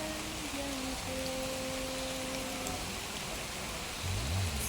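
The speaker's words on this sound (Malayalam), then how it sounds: "മഴ പെയ്യുന്നുണ്ട് കേട്ടോ." Steady rain falls in an urban forest, a dense even hiss that fills the whole stretch, with faint tonal hums and a low rumble near the end.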